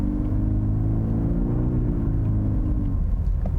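A 2021 Genesis GV80 2.5T rear-drive luxury SUV accelerates from a stop on snow while traction control cuts power. The engine drone rises slightly in pitch and then eases off. It is close, loud and steady, with no talking.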